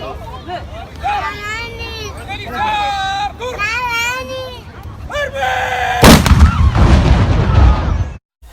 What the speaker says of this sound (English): Moments later, we heard the firing of the cannon, which was broadcasted live and projected to a big white screen.